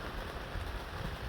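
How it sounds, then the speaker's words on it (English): Rain falls steadily during a coastal walk from Ramsgate to Dover, a dense even patter close around with no voices. "then suddenly it's raining again"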